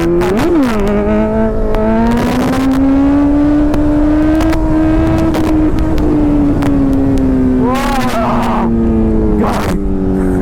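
A motorcycle engine revs and holds a high, rising note as the bike lifts into a wheelie on a valley road, with strong wind buffeting and short bursts of noise, loud and close throughout.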